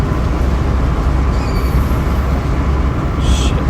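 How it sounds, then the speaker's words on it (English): Low rumbling train noise near a car waiting by the tracks, a steady broadband roar with heavy low end and faint high-pitched squeals partway through, continuous and fairly loud. "I hear the train starting to move."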